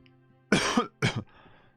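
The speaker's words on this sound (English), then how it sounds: "Oh my god, I coughed." Two close, loud coughs from a single person in a quiet room, the first longer and the second short, with a faint hum left behind once they stop.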